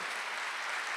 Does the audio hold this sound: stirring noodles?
no